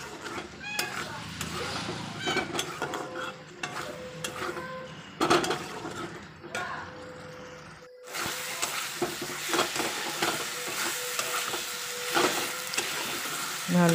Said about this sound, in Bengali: ভালো করে নেড়ে চেড়ে কষিয়ে নিতে হবে।